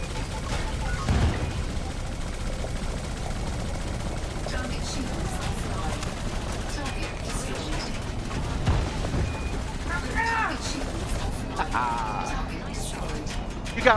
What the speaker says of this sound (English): Stop shooting my ship!